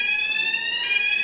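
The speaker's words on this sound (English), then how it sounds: "there's the fire alarm." A fire alarm rings continuously with a steady, piercing high-pitched electronic tone, loud and unbroken throughout.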